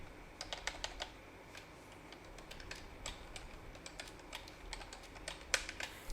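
Fingers type on a computer keyboard in a quiet room, a close, uneven run of crisp key clicks with brief pauses and a slightly louder tap near the end.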